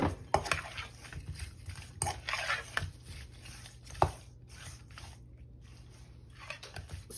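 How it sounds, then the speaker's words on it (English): Shrimp being mixed with garlic powder, paprika and other seasonings in a bowl, making soft wet squishing and scraping with a few light clinks and taps, close and quiet, with no talk. "We're just gonna mix all of this in."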